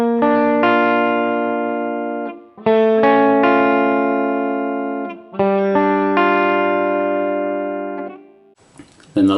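A guitar plays three sustained chords in turn, each ringing out and decaying before the next, close and alone with effects and reverb.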